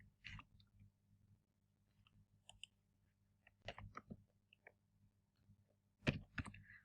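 Scattered soft computer mouse clicks while someone sets up an online quiz, faint and irregular, with a few clustered clicks in a quiet room.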